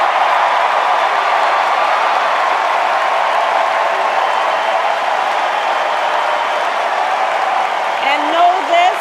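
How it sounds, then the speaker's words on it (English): A large political convention crowd in an arena roars with sustained applause and cheering for Palestine, a dense, even wash of clapping and voices holding steady throughout. "You'll notice massive applause for Palestine"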